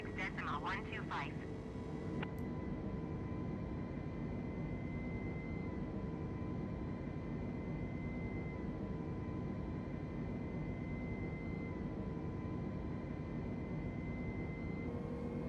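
Steady engine drone of an Airbus A320 cockpit in Microsoft Flight Simulator, a constant even roar throughout with a few short electronic chirps at the start.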